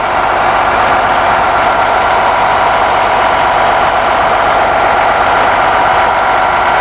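A steady, continuous Cummins diesel engine idle in a 2017 MCI D4505 highway coach with a broad, even rumble, close by and unchanging throughout, with no voices.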